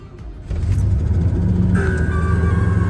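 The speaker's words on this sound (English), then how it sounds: "we're gonna do a little cold start on the S10 too while we're at it." A Chevrolet S10 truck engine cold-starts on a freezing day, cranking briefly before catching into a steady, loud idle with a low rumble and a rising whine.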